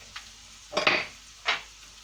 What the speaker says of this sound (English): So when it's starting to get hot, in with the onions,